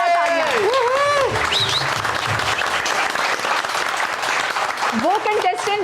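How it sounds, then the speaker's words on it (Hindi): Loud, sustained studio audience applause at a Pakistani televised singing-competition morning show special, dense clapping throughout with a host's voice and crowd noise over it. "सबके लिए जोरदार तालियां"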